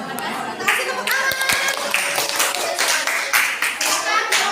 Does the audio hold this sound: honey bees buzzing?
no